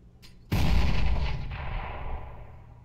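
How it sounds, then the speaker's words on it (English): A grenade detonates in a tactical shooter game with one sudden loud blast, a heavy boom that rings out and slowly decays over a couple of seconds, preceded by a brief faint click. "Grenade out."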